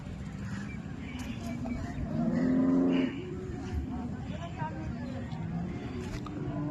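Cattle at a cow market, including German-breed dairy cows, give a brief low moo under someone speaking, with market chatter and background noise around.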